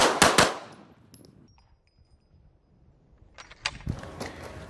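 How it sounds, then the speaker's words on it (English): A Canik TP9 Elite Combat pistol on an outdoor range speed drill at 10 yards with two targets, a quick burst of loud shots at the start, a quiet gap, then more sharp reports near the end. "We're going to run it through our speed test, which is 10 yards, 4 rounds and 2 targets."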